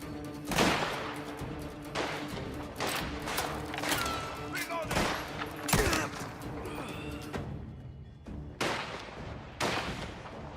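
Gunfire from the video game Mafia: The Old Country: rapid, sharp shots in uneven bursts, some close and loud, with someone talking excitedly over the shooting.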